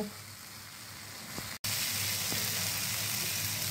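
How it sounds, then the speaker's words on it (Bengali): Potato and pointed gourd cooking down in hot oil with spices, giving a steady close sizzle and crackle with a brief break partway through, no talking. "এবার কিছুক্ষণ আমি কষিয়ে নেব। কষানো হয়ে এলে তেলটা ছেড়ে ছেড়ে আসবে"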